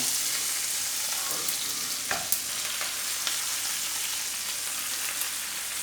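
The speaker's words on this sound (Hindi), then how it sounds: "ज़ीरा फ्राई होना स्टार्ट हो चुका है।" Cumin seeds fry in a pan, a soft, steady, close sizzle with a few scattered crackles and light pops throughout.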